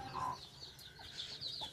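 Medak breed chickens clucking and calling at close range, a few short squawks and cackles over quiet farmyard background.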